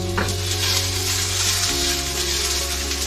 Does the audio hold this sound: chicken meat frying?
yes